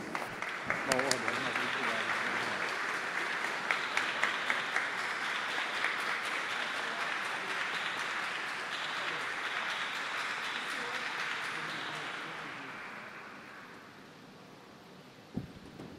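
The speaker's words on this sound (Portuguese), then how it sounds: "uma salva de palmas a todos" Sustained audience applause at a solemn DeMolay tribute session, loud and dense at first, then gradually thinning and fading out near the end, followed by a brief thump.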